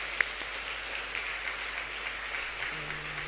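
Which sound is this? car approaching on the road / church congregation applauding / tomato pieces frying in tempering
church congregation applauding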